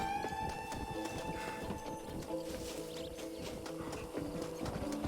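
Horse hooves in Red Dead Redemption, a steady rhythmic clip-clop of a galloping horse, faint and continuous under game ambience and music.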